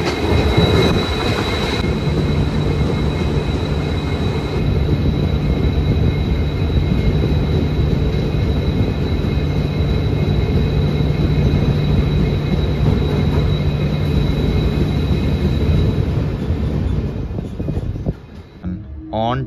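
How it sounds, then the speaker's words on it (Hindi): The Dooars Tourist Express Vistadome train runs on rails with a loud, steady rumble and clatter of wheels, a sustained high squeal over much of it, and the noise easing near the end. "अब हमारी ट्रेन खुल चुकी है फ्रॉम न्यू माल जंक्शन।"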